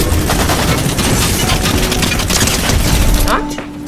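Minigun fire in a video game, a dense continuous burst of rapid shots that runs nearly the whole time at high loudness before cutting off near the end.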